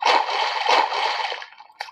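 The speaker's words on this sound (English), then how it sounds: "And that's the sound of boots splashing in spring." Boots splash through shallow spring rain puddles in a few wet, sloshing steps, close and fairly loud, ending with a small final splatter.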